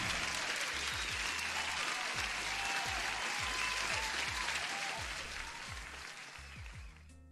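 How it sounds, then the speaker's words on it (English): A crowd claps in sustained applause, dense and steady for several seconds before gradually thinning and fading toward the end, with no talking over it. "huge applause"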